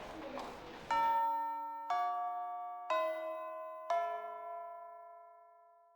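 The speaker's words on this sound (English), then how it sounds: "the bell for homeroom rang" A school homeroom bell chimes in the video game Fate/EXTRA CCC, four clear bell-like tones struck about a second apart, each ringing out and decaying, after a brief burst of noise at the start.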